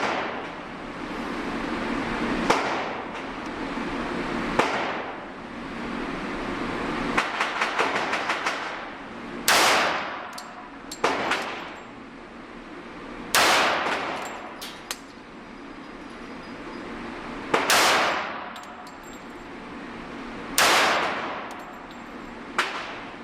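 Shots from an FN FNP-45 .45 pistol fired single action, loud sharp reports spaced a few seconds apart, about eight in all, over a steady outdoor background rumble.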